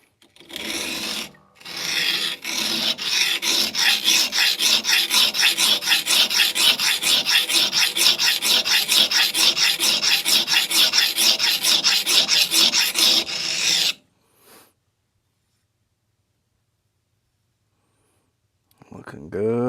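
A newly forged knife's hand-flattened bevel is ground on a King 120 grit stone, producing steady, rapid back-and-forth rasping strokes for about twelve seconds before stopping abruptly. A short voice follows near the end.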